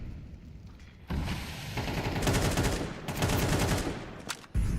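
Rapid AK-47 spray in a Counter-Strike match, with dense bursts of gunfire rattling on and off through most of the stretch amid other in-game shots and movement.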